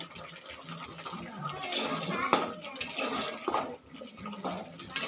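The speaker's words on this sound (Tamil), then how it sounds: "நல்லா கொதிக்கட்டும். சிக்கன் நல்லா வேகட்டும்" Chicken gravy boils in a pot on the stove, making a steady, fairly soft bubbling and watery churning that rises and falls in small surges, with faint voice-like sounds now and then.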